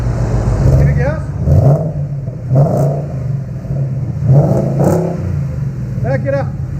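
A Ford Mustang GT with a 5.0L V8 and a newly fitted aftermarket exhaust revs hard in a few loud, close bursts over a rumbling idle. People talk over the engine.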